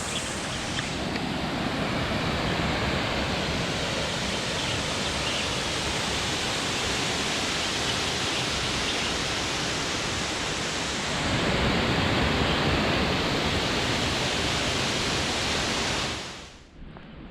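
A waterfall drops off a sheer cliff in a Moroccan gorge, a loud, steady broadband roar that swells slightly partway through, then cuts off abruptly at the end, with no talking.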